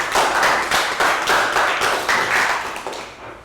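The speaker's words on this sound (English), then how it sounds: "Round of applause for Nick." A Year 3 maths class bursts into loud, close, dense clapping for a classmate, a continuous patter of many small hands that holds steady and then fades out near the end.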